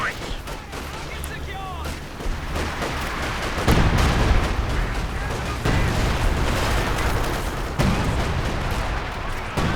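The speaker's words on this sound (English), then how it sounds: "Got the Major dropping the off-map artillery." Off-map artillery barrage in Company of Heroes 2, with repeated heavy booming impacts and gunfire crackle rolling through a dense battle din, loudest bursts arriving every couple of seconds.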